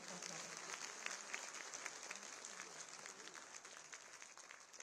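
A large crowd claps steadily for the whole stretch at a government ceremony marking Kisan Samman Diwas 2023, the anniversary of former Prime Minister Chaudhary Charan Singh. The applause is dense, even and somewhat distant, with no voices over it.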